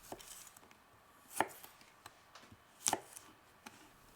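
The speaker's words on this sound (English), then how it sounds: "This can be done by either cutting them on the bias like this" Knife slicing fresh green beans on the bias on a cutting board, giving a few sharp isolated chops with quiet gaps between them, close and clean with no voices.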